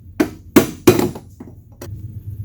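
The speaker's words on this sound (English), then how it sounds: "It's the only hammer I got close enough right now" A hammer strikes several times close up, about five sharp, uneven blows, the middle ones heaviest, each ending in a brief ringing decay.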